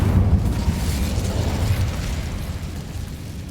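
A fire spell in Hogwarts Legacy erupts as a heavy, roaring blast that rumbles low and dense, sustaining as a churning burn that slowly fades.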